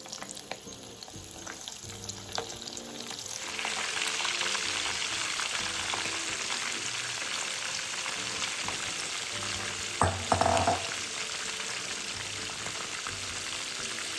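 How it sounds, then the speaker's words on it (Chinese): Fresh shrimp drop into a pot of oil heated over medium flame and fry with a dense, steady crackling sizzle that swells after a few seconds and stays close and even, with a brief clatter partway through. "中火热一锅油，油热后再将预先备好鲜虾放入油炸。"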